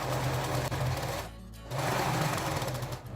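A sewing machine stitches fabric scraps in a zero-waste craft project, whirring in a fast, steady rhythm that pauses briefly midway before resuming at close range.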